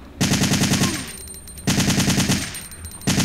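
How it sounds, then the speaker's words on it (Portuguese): Loud bursts of rapid automatic gunfire from Resident Evil 3, three sustained volleys in quick succession with brief pauses between. "Errei um monte de tiro."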